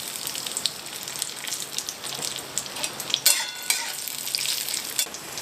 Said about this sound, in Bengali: এবার আমি ঘিয়ের মধ্যে কাজুটা ভেজে নেব